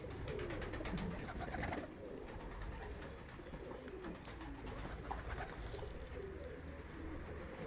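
Pigeons coo in low, throaty murmurs close by in a loft, the soft cooing continuing steadily over a faint background hum.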